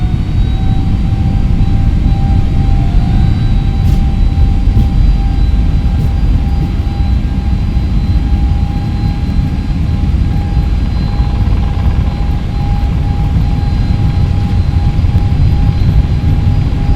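Airbus A321neo jet engines spooling up for takeoff in a flight simulator game, easyJet livery at Madeira airport: a loud, continuous rumbling roar with a steady whine on top, with no talk.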